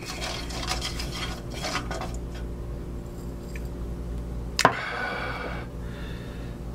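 Garlic stirred in a pan on a small kitchen burner, with a steady low hiss, a few soft scrapes and a single sharp clink of utensil against the pan midway, close and alone.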